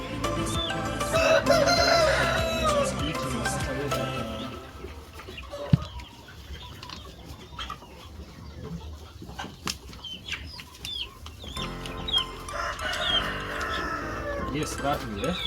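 Chickens cluck and a rooster crows close by, with wing flapping and farmyard bustle running under a person talking throughout.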